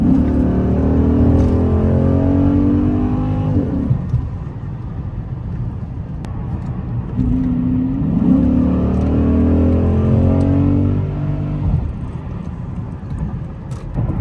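A Chrysler 300 SRT8 engine revs up through rising gears twice while driving, whining higher with each shift, then settles into a rumbling cruise between pulls; loud and close.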